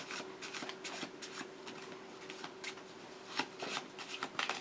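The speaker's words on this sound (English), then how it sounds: "we'll shuffle them up" Playing cards being shuffled by hand for a magic trick, a series of quick riffling and sliding bursts close up, fairly quiet, with no talking.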